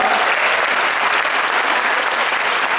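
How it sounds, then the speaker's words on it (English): Loud, dense applause from a crowd, steady clapping throughout with no pauses. "Give ourselves a big round of applause."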